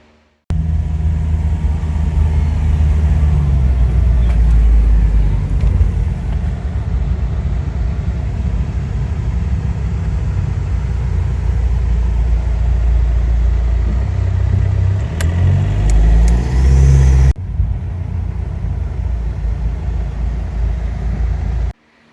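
A TDI diesel engine swapped into a Jeep idles with the air conditioning running, a steady loud low rumble that stays constant for about seventeen seconds before dropping off abruptly.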